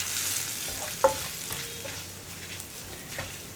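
Spice powders sizzle softly in a pan while being stirred for a taro root (chembu) masala fry, with a sharp spoon-on-pan scrape near one second and faint scraping taps after it, all steady and without talk.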